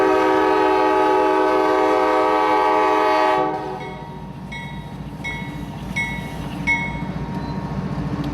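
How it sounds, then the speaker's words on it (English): A CSX freight train at a rail junction in Augusta sounds a loud, sustained horn for about three seconds, then the rumble and clatter of the passing cars carries on at close range. "CSX's Q126 has lined the junction switch for a trip from downtown out the Georgia Road."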